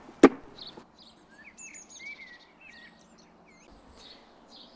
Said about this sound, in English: great tits as well. I can hear them calling on top of that edge there.